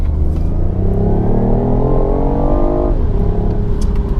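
A 2018 BMW i8 coupe's hybrid engine in sport mode revs hard and close, its tone climbing steadily before dropping at a gear change and rising again.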